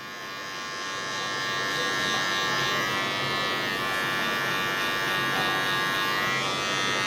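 Electric hair clippers buzz steadily and continuously at close range while cutting short hair during a low taper haircut, with no talk.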